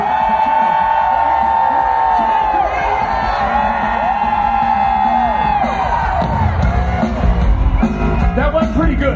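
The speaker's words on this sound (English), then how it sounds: "I want to hear you yell. 1, 2, 3, yell!" A rock festival crowd at Download Festival 2024 yells on a count of three. Its roar swells loud and wide over tonal music and voices, building in the last few seconds.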